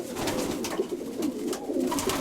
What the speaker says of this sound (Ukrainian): Ось вона, Сергія Івановича голубка.